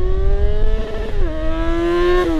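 A Yamaha XJ6 motorcycle accelerates past close by, its engine climbing in pitch, briefly dropping at a gear shift, then rising again, loud and harmonic over a rumbling background.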